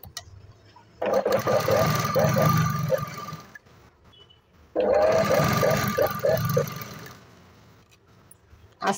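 A sewing machine stitches lining to fabric on a garment back piece in two close, loud bursts of rapid whirring, each about two to three seconds long, separated by a quiet pause.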